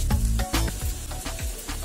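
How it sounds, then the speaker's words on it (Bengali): Egg-potato tikki frying in a pan over a medium flame gives a close, steady sizzle with a few soft bursts of spattering oil, heard alone without talk. "মিডিয়াম ফ্লেমে ভাজতে হবে।"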